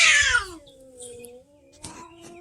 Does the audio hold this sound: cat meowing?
yes